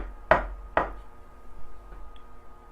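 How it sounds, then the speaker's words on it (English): Two firm knocks on a wooden door, close and distinct, followed by a quiet room with faint movement. "She hears the knock on the door."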